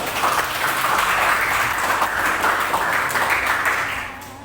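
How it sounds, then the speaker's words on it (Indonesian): A group of students joining in applause together, a steady dense wash of clapping that stays loud and even before tapering off near the end. "Oke, tepuk tangan dulu untuk kita semua."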